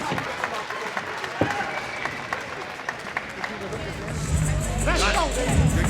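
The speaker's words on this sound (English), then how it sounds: "Crowd starting to get into this one here at Flint." Boxing crowd at a Joey Spencer fight in Flint rises into dense applause and cheering, a steady roar of clapping that swells louder toward the end, with scattered voices through it.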